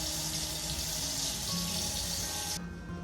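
Tap water runs steadily into a pressure canner insert for spicy dilly beans, a loud continuous rushing splash close by that cuts off abruptly near the end, with no talking.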